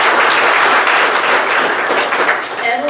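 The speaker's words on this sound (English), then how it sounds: "Give them a big round of applause." An audience at a school awards assembly applauding, loud dense clapping from many hands filling the room, tapering slightly near the end.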